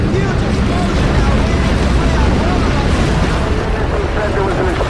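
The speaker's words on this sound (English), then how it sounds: "A huge explosion now." Explosion at the World Trade Center during the 9/11 attacks: a loud, sustained roaring rumble with heavy wind-like noise, filling the whole stretch without break.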